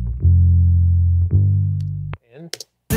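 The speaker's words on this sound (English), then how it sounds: "if you add a little bit of saturation" A saturated bass line in a pop-rock mix plays two long, loud sustained notes with a gritty harmonic edge, then cuts off, leaving brief scattered sounds before a final hit.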